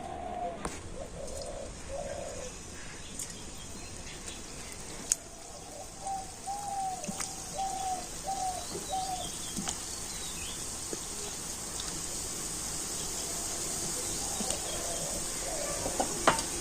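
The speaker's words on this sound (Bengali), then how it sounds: "আর এবার আমি একে একে মিষ্টিগুলো তেলের মধ্যে দিয়ে দেব।" Gulab jamun sweets made from Marie biscuit dough fry in medium-hot oil with a steady, soft sizzling hiss that runs throughout, with a few faint chirps in the background and no talking.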